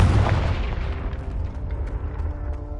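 A Confringo fire spell explodes in Hogwarts Legacy, a loud low boom that rolls out into a long fading rumble with no voices over it.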